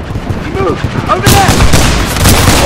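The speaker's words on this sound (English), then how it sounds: "We're using the pistol on this class." Pistol gunfire in Titanfall 2 cracks out in a loud, dense burst amid other game combat noise, with a voice talking over it.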